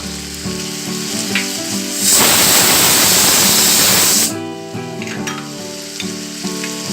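Onions fry in a pav bhaji pan as finely chopped tomatoes and grated ginger go in, raising a loud, steady sizzling burst for about two seconds that then drops back under soft background music.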